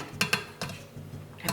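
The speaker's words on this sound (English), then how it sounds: "You mix this up, make sure it's kind of mixed into the water itself" A spoon stirs coffee and sugar into water in a metal pot, making a few quick scraping clinks against the sides, close and clear with short gaps between strokes.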